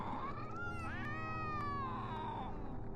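A cat meows in one long, drawn-out wail with a rising and falling pitch, heard over steady background noise.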